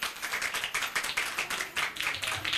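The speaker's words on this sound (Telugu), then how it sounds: "చప్పట్లు కొడదాం." A congregation at a New Year church service claps in a steady, rhythmic beat, a fairly close patter of hands with no talk over it.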